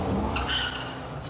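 A car with a powerful engine fleeing police on a road, its engine roaring close and loud with a brief tire squeal in a short burst.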